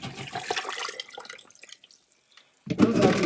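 Water from boiling turkey is poured into a cooking pot, a wet splashing pour that fades to quiet, then a louder burst of liquid near the end.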